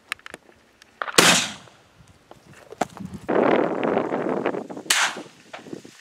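Shotgun fire while wingshooting birds in South Africa, two sharp loud reports a few seconds apart amid outdoor rustling and movement, with no talk during the shots.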